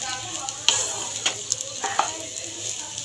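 Dalia pulao of broken wheat and vegetables cooks in oil and ghee in a pan, with a steady sizzling hiss and occasional clinks and scrapes as it is stirred, close and moderately loud.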